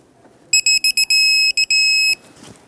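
Torque wrench on a 2013-2018 Hyundai Santa Fe front axle nut being torqued to 217 foot-pounds, giving a loud, close series of sharp electronic beeps: several short pulses, then a longer sustained tone, brief pulses again and a final long beep.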